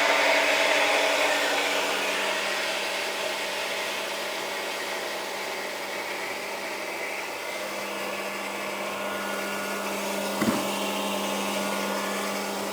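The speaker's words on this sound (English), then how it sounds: "Right, so actually I haven't run this pump yet." Water pump started for the first time while airlocked, running with a steady loud whirring drone and constant hum throughout, one brief knock near the end, no talking.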